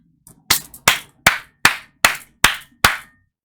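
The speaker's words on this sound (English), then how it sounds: "I wish I could clap louder" Hands clap in a slow, even rhythm, seven sharp, close claps after a faint first tap, each ringing briefly before the next, with no talking.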